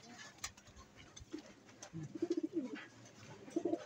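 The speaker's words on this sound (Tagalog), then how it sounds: "Kilala na ni Mami Tutan yung mga ibon natin." Pigeons coo softly in short, repeated throaty phrases against a faint outdoor background.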